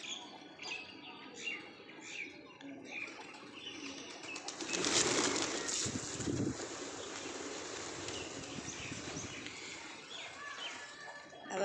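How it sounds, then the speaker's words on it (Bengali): Pigeons flutter and flap their wings as they fly off and land again, with a louder burst of wingbeats midway and soft coos and chirps around it. "একবার করে উড়ে যাচ্ছে, একবার করে আসছে, কি ভালো লাগছে।"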